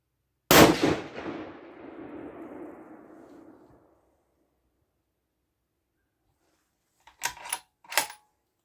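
A single 6.5 PRC rifle shot with Hornady 140gr match bullets over Vihtavuori N560 powder: one sharp, loud crack followed by a long rolling echo, then silence and a few metallic clicks from the action.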